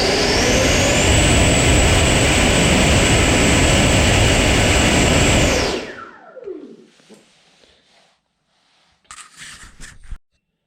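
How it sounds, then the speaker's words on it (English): FMS 2100kv V2 Platinum ducted fans in a Freewing F14 running a thrust test: a loud, steady high-pitched jet-like roar for about five seconds, then a quick spool-down into near silence and a few brief clatters. "So this is going to be run number 1, FMS version 2 Platinum fans"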